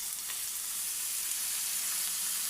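Bitter gourd and shrimp paste fry steadily in a pan, a continuous close sizzle with faint stirring as soy sauce goes in.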